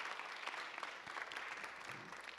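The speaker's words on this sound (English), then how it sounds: "if you guys could give her a round of applause" Audience applause for Judge Terry Jamison at a community gathering, a soft, fairly distant patter of clapping with a few sharper claps standing out.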